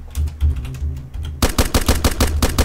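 Rapid automatic gunfire in the survival game Rust, loud and close, a fast stream of cracking shots that grows denser and heavier halfway through.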